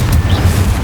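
A Confringo fire spell explodes in Hogwarts Legacy, a short, loud, low booming blast with rumbling body, close and dominant over the game's background.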